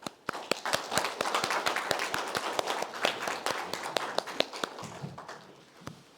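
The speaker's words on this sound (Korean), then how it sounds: "나오실 때 큰 박수로 맞이해주시기 바랍니다." A forum audience claps to welcome a speaker to the stage, a fairly light and fading applause where separate sharp claps stand out, heard alone without talk.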